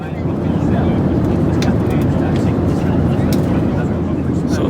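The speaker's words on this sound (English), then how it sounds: "it starts here on the plane, flying out" Airliner cabin in flight on the way to Germany fills with a loud, constant broadband engine roar, with voices talking over it.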